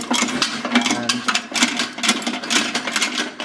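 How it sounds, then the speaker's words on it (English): A hydraulic chain cutter's pump runs steadily with a whirring mechanical drone and small clicks, holding a constant loud level with slight pulsing throughout. "The hydraulic pump will continue."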